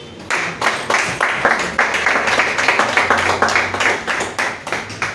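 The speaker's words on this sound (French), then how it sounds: "nous allons une fois de plus applaudir pour la sœur" A crowd applauds steadily, dense rapid clapping that stays loud and even throughout, with no voices on top.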